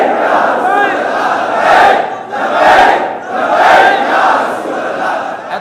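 A large crowd at a Friday sermon chants religious slogans in loud, swelling waves, three or four surges rising and falling over a steady roar with no single voice standing out.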